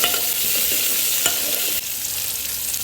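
Chillies, onions and curry leaves are stirred and sizzle in hot oil in a pan, a steady close frying hiss with scraping stirs and a sharp clink midway, no talking.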